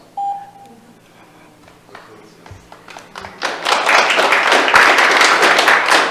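Applause at a city listening session on resting in public spaces in Grants Pass, Oregon, building after a few quiet beeps and taps into sustained, fairly loud clapping from the room.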